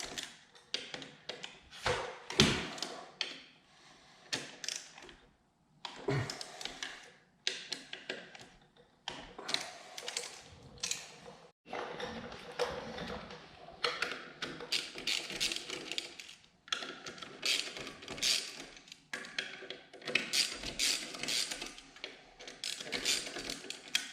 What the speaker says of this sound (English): I'm going to use my torque wrench because these are torqued at 60 Newton meters, which is pretty tight, so I need a little extra leverage to get these